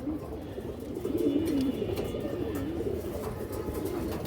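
Black-winged female pigeons coo in a low, throaty, wavering murmur, close and continuous, with faint background activity and no clear talk over it.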